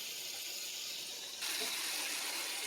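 Water gushes from a tap into a pot for cooking rice, a steady hissing flow that grows louder partway through, with no talk.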